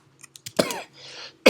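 A few short coughs followed by a harsher, louder cough burst, with a faint hum underneath; close and clear, no talking.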